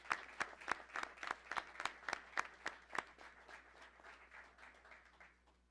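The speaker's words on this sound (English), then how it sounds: "So another round of applause for all of our students tonight who are recognized, please." A small audience at a school board of education meeting claps for recognized students, a thin scatter of distinct hand claps in a roughly steady rhythm that gradually fades, faint and roomy, with no voices.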